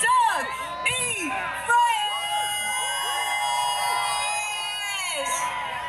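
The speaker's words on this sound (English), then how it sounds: "I need y'all to start cheering right now" A live hip hop audience cheers for Dougie Fresh with loud whoops, whistles and shouts that rise and fall over a continuous crowd roar.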